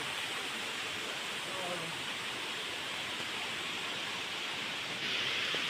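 Steady broadband roar of waterfall water rushing, a dense continuous hiss that holds even throughout with no pauses.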